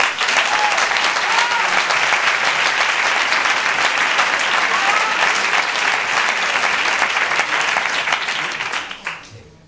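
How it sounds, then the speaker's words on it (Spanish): A large comedy club audience claps loudly and steadily for a university vice-rector of research taking the stage, a dense unbroken wave of applause that fades out at the very end. "Os pido un gran aplauso para el vicerrector de investigación"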